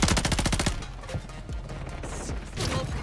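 Rapid automatic gunfire in the online shooter Warzone, a fast burst of close shots up front followed by scattered single reports and clatter, with faint talk in the background.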